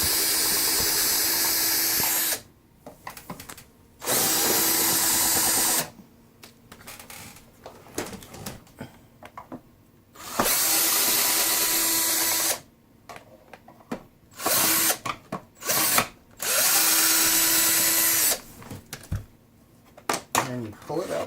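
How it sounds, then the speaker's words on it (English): A power drill backs out the screws on the top plate of a Eureka Airspeed Gold vacuum, whining loudly in several separate bursts of a few seconds each, with clicks and handling noise between them. "remove the 4 screws on the top to get off the top plate"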